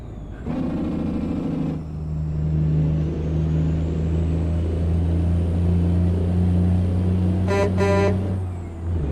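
In American Truck Simulator, a loud, deep truck horn blasts for over a second over a steady engine rumble, and a second, shorter double blast sounds a few seconds later.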